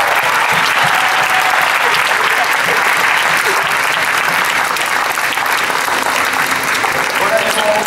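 A cinema audience at a Japan Expo screening gives loud sustained applause for the film distributor Apollo, dense clapping with crowd voices filling the room.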